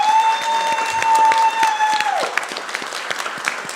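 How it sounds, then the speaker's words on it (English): Audience applause fills a city council meeting in Santa Ana, steady clapping from a crowd with a sustained tone ringing under it before fading into looser, scattered claps. "So let's give her a round of applause"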